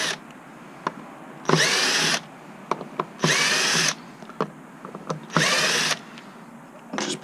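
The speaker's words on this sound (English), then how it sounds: "now I'll remove these four screws from the four outer screws from the motor controller" A power drill backs out the outer screws of a motor controller in three loud whirring bursts, each under a second long, separated by quieter clicks and handling noises.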